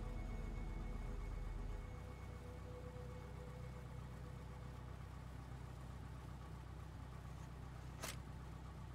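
A Cessna 172 piston engine idles on a taxiway with a steady, droning hum and a low rumble heard from inside the cockpit, the pitch holding even throughout, with one brief click near the end and no talking.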